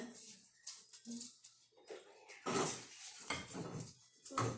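Pandan pancake batter being mixed in a bowl held on a lap, with scraping, clinking strokes of utensil against bowl, close and uneven, amid bursts of talk.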